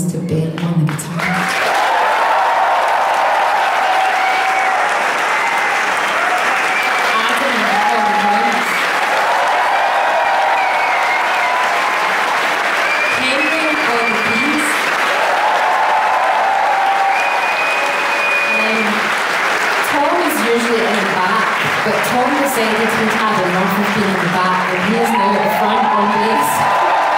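A concert crowd at Ancienne Belgique applauds and cheers loudly and continuously, with whoops rising over sustained clapping throughout, while stage sounds and bursts of music continue underneath.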